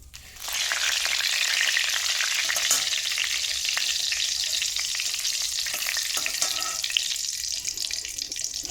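Panch phoron five-spice tempering with bay leaves sizzling in hot oil, a loud, dense, close hiss that starts abruptly and holds steady to the end, with no voices.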